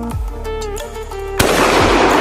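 A single sharp, loud shot from a German Mauser rifle cracks out after a few seconds of tonal background, then a broad noisy echo trails off.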